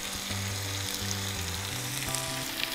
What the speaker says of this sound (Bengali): এখন আমি বাকি সবজি যেটা আছে ওগুলো দিচ্ছি।